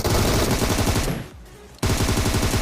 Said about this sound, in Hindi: भाई कोई और भी फायरिंग कर रहा है जो कि मेरे को दिख चुका है सामने पहाड़ी पे